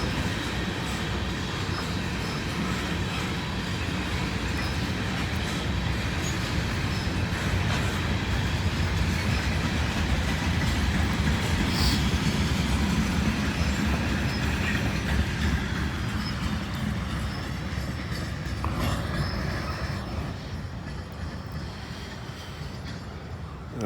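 A long freight train with loaded anhydrous ammonia tank cars rumbles steadily past at close range, with a continuous roll and faint rhythmic wheel clatter that eases slightly near the end.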